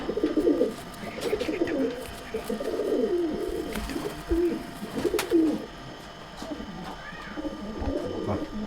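Madrasi pigeons of an old pure line coo repeatedly in a loft, soft rolling calls overlapping one another at close range against steady background noise.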